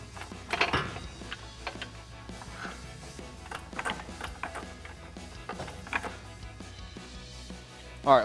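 Floor jack pumping and ratcheting under a Jeep Wrangler JL while a RedRock tubular rock slider is lifted into place, giving a series of soft mechanical clicks and clunks, close and fairly quiet, with a louder knock at the end.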